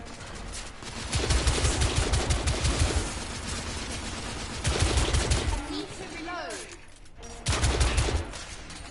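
Gunfire from The Order: 1886 comes in repeated loud bursts of rapid shots, broken by short lulls, with a voice speaking between volleys.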